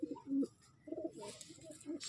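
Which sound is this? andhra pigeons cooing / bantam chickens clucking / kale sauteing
andhra pigeons cooing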